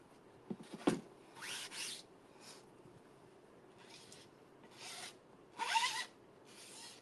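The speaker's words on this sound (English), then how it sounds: "my squeegee to make sure my stencil is down" A squeegee pressed and dragged over a stencil laid on a board, giving a series of short, soft scraping swipes close by with quiet pauses between them.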